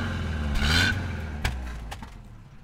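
A Subaru's boxer engine idles with a low, steady thrum, a brief rev swelling early on, followed by a couple of sharp clicks and clatters.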